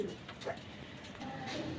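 A male pigeon coos softly at close range in a short, low burst, with faint handling noise and little else around it.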